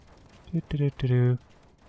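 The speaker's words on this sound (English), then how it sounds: "That same section is still being shot at." Ship turrets in the space game Space Engineers fire a short burst of a few quick, close, tonal shots in under a second, with quiet before and after.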